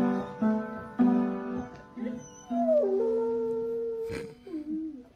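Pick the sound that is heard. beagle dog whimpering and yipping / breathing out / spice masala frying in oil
beagle dog whimpering and yipping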